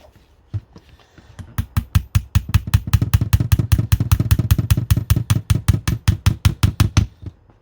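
Rapid, steady metallic tapping of a small hammer driving a pin into a Weirauch HW110 air rifle, dozens of quick evenly spaced strikes building into a fast rhythm, then stopping abruptly; close and fairly loud.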